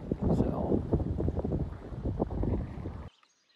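Gusty wind blows across the summit of Katahdin on an Appalachian Trail hike in cold early-morning air, a dense rushing roar that cuts off abruptly near the end.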